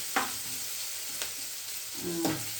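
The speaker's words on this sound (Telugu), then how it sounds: "ఉల్లిగడ్డ, పచ్చిమిర్చీలు, అల్లం వెల్లిగడ్డ పేస్ట్ అన్నీ మంచి గోలాలి" Onions, green chillies and ginger-garlic paste sizzling and frying in a pan for a curry, a steady soft crackle broken by a few scrapes of stirring, fairly faint and close.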